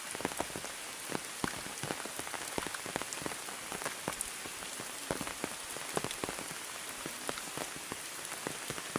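Rain falls steadily outdoors in the countryside, a dense hiss of drops pattering on surfaces with scattered sharper taps, continuous and fairly soft with no voices.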